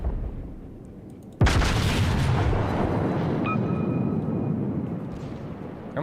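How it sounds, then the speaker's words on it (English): A low-tier US Navy battleship fires a broadside of high-explosive shells in World of Warships, a sudden loud boom followed by a long rumbling roar, with a brief high tone and a softer thump near the end. "hopefully this guy likes giant HE shells to his face"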